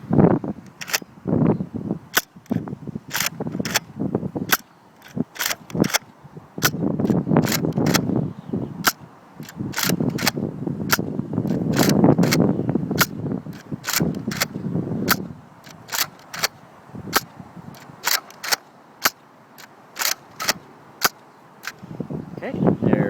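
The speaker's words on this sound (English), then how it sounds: "let's see without the barrel how the Retaliator does" Nerf N-Strike Elite Retaliator blaster firing darts with its barrel removed: a long series of sharp, loud spring-piston pops at a steady, quick rhythm, with faint room noise and handling between shots.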